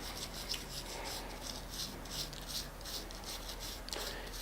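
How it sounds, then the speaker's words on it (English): A nylon brush scrubbing carbon buildup off the slide of a Ruger SR9 pistol, quick repeated rasping strokes in a steady back-and-forth rhythm, close and fairly quiet, with no talking. "You just kind of brush away."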